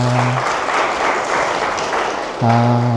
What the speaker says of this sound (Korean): 김현우 형제 우리 박수로 환영하겠습니다.